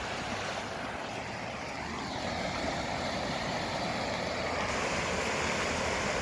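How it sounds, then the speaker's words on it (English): A loud river rushes nearby in a constant broadband roar, with wind buffeting the microphone, steady and unbroken throughout with no voices. "this river is really loud."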